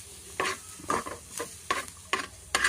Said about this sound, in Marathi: कांदा हा आपल्याला एकदम चांगला व्यवस्थितच परतवून घेणार आहोत।